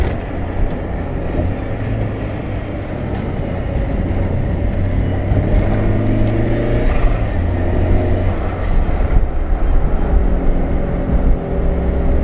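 Turbocharged 1991 Mazda Miata driven hard at night through a corner in second gear, its engine a steady loud drone with road rumble throughout, no voices.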